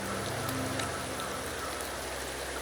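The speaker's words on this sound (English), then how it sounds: "The rains in Septimont never seem eager to leave this season." Steady rain pours in the world of the video game Wuthering Waves, a dense even hiss that holds level throughout, with a faint low tone sustained underneath and no voices.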